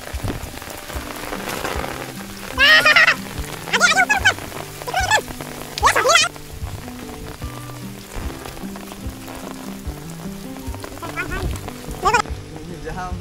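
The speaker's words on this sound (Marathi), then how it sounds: "हे पाऊस आला, पाऊस." Rain pours down at Panorama Point in Matheran, a steady patter on surfaces that runs throughout, with several people talking and calling out loudly over it in bursts.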